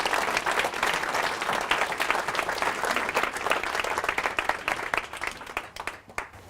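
An audience at a book launch claps steadily for several seconds, a dense wash of applause from a room of people that holds fairly even before thinning out and fading at the end.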